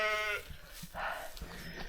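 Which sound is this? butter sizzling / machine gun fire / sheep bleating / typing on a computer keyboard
sheep bleating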